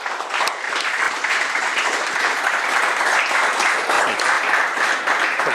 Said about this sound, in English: Round of applause for Mark, please.